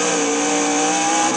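Race car in-cockpit at Le Mans downshifting to second gear, a loud steady engine roar with dense broadband road and wind noise filling the whole moment, no voices.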